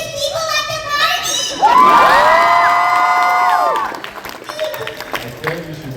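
A crowd of children at Fan Expo erupts into loud, high-pitched shouting and cheering, a sustained burst of excited squeals lasting a couple of seconds before settling into scattered chatter and a voice.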